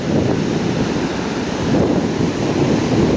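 Large sea waves crash and roar under strong wind during a super typhoon with monsoon rain, a loud, continuous wash of surf and gusts buffeting the microphone.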